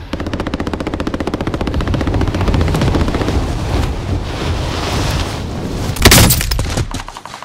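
Rapid machine-gun fire in Call of Duty Modern Warfare 2019, a loud, continuous rattling burst that runs for several seconds over wind-like rushing noise, with a sharper blast near the end.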